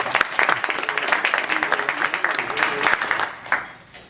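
Audience at a community panel on police response to mental illness gives the camera operator a round of applause, brisk clapping from many hands that holds steady, then thins and fades near the end.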